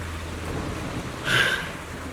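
Steady rain falls in the video game Zenless Zone Zero, a soft even patter with a low rumble beneath, and a brief brighter splash of droplets swells near the middle before settling back.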